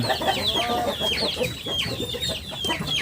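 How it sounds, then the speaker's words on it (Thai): Several 40-day-old village chickens clucking and squawking close by, overlapping calls in a busy, continuous chatter with no talking. "จะเป็นไก่พึ่งออกจากคอก"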